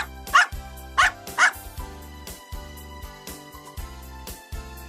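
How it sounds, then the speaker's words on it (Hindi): A dog gives three sharp, loud barks close by at the start, then quieter yips follow over background music. "कुत्ता"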